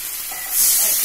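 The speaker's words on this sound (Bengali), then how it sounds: "মশলাটা ভালো করে কষিয়ে নেবো" Spice paste for a prawn curry being sautéed with a little sugar gives a loud, close hiss and sizzle that swells midway and holds steady across the short stretch.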